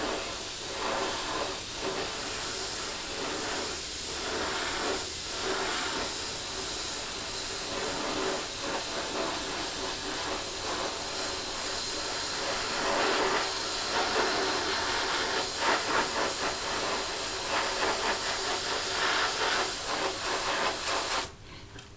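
Airbrush spraying paint at 25 psi onto a 1/48 F-15E Strike Eagle model: a steady close hiss that runs continuously for about twenty seconds, with slight pulsing, then cuts off abruptly at the end.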